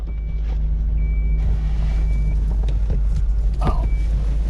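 A Lexus SC430 chimes with a repeated thin electronic beep after its seat memory position is lost, sounding in evenly spaced pulses over a steady low idling rumble from the car's engine.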